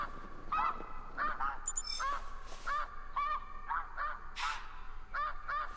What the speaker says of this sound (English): Is that what a goose sounds like? An Arctic goose?